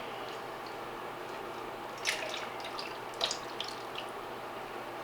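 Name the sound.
pouring clam juice and milk mixture into a cooking dish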